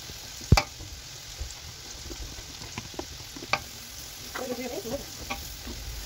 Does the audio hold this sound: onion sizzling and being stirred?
yes